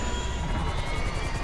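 Helicopter in the video game GTA 5, a steady whirring rotor and engine drone held at an even level throughout, close and continuous.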